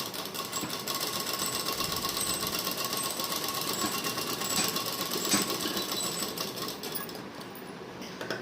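A sewing machine stitches a pant pocket, a continuous, fast, even mechanical chatter of needle strokes that holds steady throughout before easing slightly at the end.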